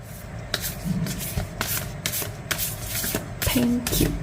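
Tarot cards shuffled by hand in quick, close bursts of riffling and rubbing that go on through the whole stretch.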